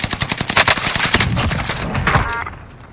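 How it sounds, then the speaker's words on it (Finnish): Bursts of rapid machine-gun fire in the Vanguard Royale battle royale game crackle loud and close in dense volleys. The firing thins out toward the end, with no speech over it. "Bounty ampuu mua."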